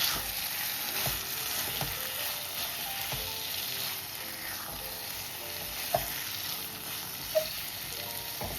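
Prawn masala with a handful of fried onion sizzles steadily in a pan as it is stirred, with a constant frying hiss and a couple of sharp utensil clinks near the end.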